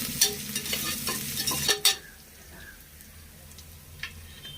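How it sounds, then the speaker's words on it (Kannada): Ginger garlic paste frying in a pan for a fenugreek leaf pulao, loud stirring clatter and spatula scrapes over sizzling in the first two seconds, then a quieter fry with a single later tap. "ಶುಂಠಿ ಬೆಳ್ಳುಳ್ಳಿ ಪೇಸ್ಟ್ ಹಾಕಿದ್ಮೇಲೆ ಹಸಿ ಸ್ಮೆಲ್ ಹೋಗೋ ತನಕ ಸ್ವಲ್ಪ ಫ್ರೈ ಮಾಡ್ಕೊಳ್ಳಿ"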